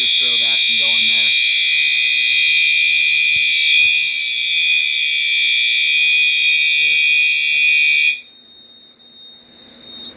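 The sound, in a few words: fire alarm sounding after pull station is pulled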